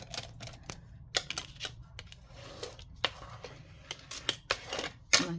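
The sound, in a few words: folding a page of paper in half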